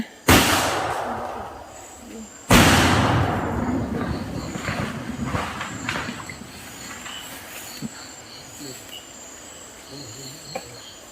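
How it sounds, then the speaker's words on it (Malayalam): Two loud firecracker blasts, set off to drive away a wild elephant from a house yard in Puthupariyaram, Palakkad, a few seconds apart, each trailing off into a steady chirring of insects and crickets. "ചുവേ പടക്കം പൊട്ടിക്കുവേ"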